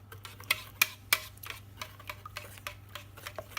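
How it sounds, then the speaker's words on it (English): Eggs being whisked into cake batter make quiet, irregular ticking clinks of the whisk against the bowl, a few sharper taps standing out among the softer strokes. "I'm just going to keep whisking the eggs so that they don't separate"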